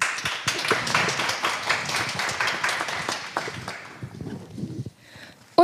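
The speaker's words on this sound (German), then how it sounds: "ein Applaus für Josi." An audience at a German panel discussion applauds with dense, sustained clapping that gradually thins out and fades toward the end.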